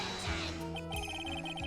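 A telephone rings in the Phoenix Wright: Ace Attorney video game, its repeated electronic trill sounding over game music and a speaker's voice.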